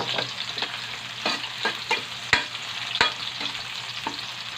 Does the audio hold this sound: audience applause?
no